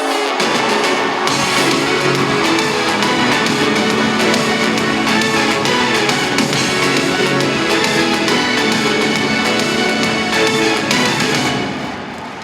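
A packed hall at the Turkvision 2013 song contest applauds continuously, a steady, loud wash of clapping over music that thins out only in the last second.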